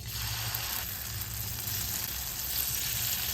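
Ragi veggie bun dosa batter sizzles in an oiled, well-seasoned kadhai with a steady close hiss and a low hum beneath it, with no talk.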